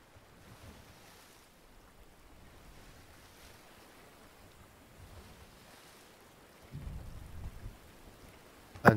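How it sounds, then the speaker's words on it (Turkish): Rain in the sailing game Sail Forth: a soft, steady wash of falling rain with a low surf-like rumble, quiet throughout and swelling briefly louder near the end. "yağmur başladı"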